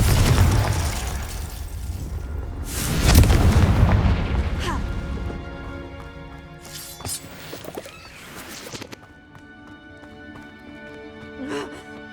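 Confringo, an explosive fire spell cast in the video game Hogwarts Legacy, bursts in a deep booming blast near the start, followed by lighter magical impacts and tonal game effects trailing off.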